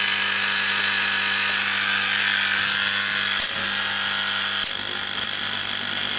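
An electro-spark hardening machine buzzes steadily while alloying a tool's seating surface, producing a continuous crackling electrical hum with two brief interruptions.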